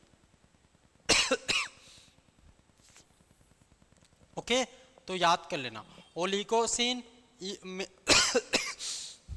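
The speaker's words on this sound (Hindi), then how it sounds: "खांसी बहुत परेशान कर रहा है" Several sharp coughs, a pair early and a louder burst near the end, mixed in with someone talking.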